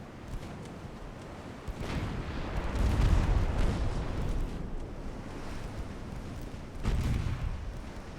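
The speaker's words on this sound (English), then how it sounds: "Activate normal guns." Warship guns fire in the Ultimate Admiral Dreadnoughts naval battle game. Heavy booming blasts rise at about two, three and seven seconds over a continuous rumbling roar, loud and dense, with no talking.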